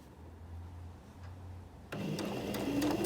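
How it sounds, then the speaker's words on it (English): A sewing machine runs in steady stitching bursts while setting in a garment sleeve between rows of ease stitching, with a brief pause, then a louder, faster continuous run near the close. "stitching in between the existing rows of ease stitching, removing pins as I go."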